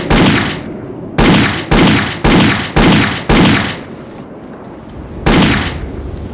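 Gunfire in the video game Indiana Jones and the Infernal Machine rings out as seven loud, sharp shots in an uneven rhythm, each trailing off in a short echoing decay, with a longer pause before the final shot.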